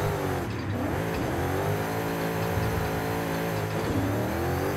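A car's engine revs loudly and continuously while the car stands still in Forza Horizon 5, a racing video game; the sustained roar rises and falls in pitch, with a short dip near the middle and another near the end, heard alone.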